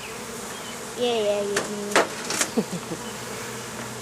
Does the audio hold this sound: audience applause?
no